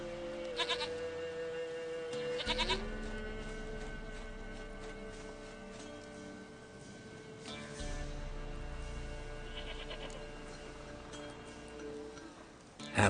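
A goat bleats in The Witcher 3 on Nintendo Switch, a few short wavering calls spaced apart over a quiet ambient background.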